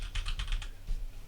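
A quick flurry of keyboard typing during a podcast, several close, crisp keystrokes in a rapid run, then a short pause and one or two more taps over a low background hum.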